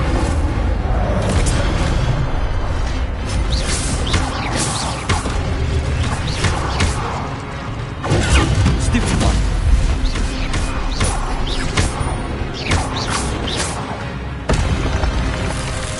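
Incendio fire spells and other combat magic burst out in the Hogwarts Legacy video game, loud and dense, with continuous booming blasts and crashes layered over a game soundtrack.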